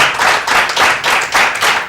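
Studio audience clapping on a French TV show, a steady close burst of hand claps with a regular pulsing rhythm.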